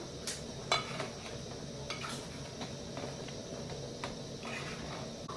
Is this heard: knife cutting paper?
no